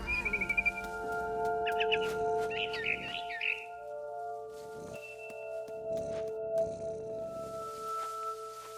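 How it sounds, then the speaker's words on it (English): A barn swallow chirping outside a window in the video game What Remains of Edith Finch, a few short bursts of twittering calls over a soft ambient music bed with tonal hums. "Then I heard chirping outside my window."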